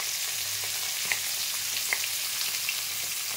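Parshe fish fry two at a time in hot mustard oil, producing a continuous close sizzle with occasional small pops and crackles rising above the even hiss.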